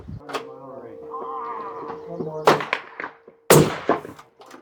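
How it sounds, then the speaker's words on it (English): Two sharp, close cracks from a suppressed rifle firing 22 Creedmoor Barnes ammunition, coming late in the clip after a stretch of voices and background sounds. "This is a lot of fun to shoot suppressed. It's almost, it's mild, very mild."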